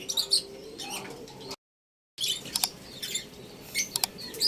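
African lovebirds kept as pets give high chirps and soft coos, close by and fairly quiet, in scattered calls with a short dead gap midway and no talk.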